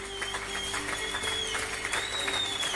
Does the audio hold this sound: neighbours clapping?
yes